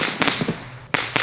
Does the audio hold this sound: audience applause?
no